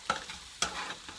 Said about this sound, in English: it's starting to sizzle now, so you're going to want to make sure you break it up so it's not just sticking to the bottom